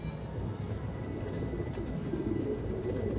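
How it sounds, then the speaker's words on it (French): Hundreds of caged homing pigeons cooing together, a continuous low, burbling murmur of overlapping calls that stays fairly loud throughout, with no speech. "des centaines de pigeons voyageurs en cage"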